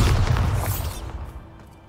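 A loud, booming blast from the Bombarda spell in Hogwarts Legacy hits at once, rumbles with crackling debris and slowly fades away.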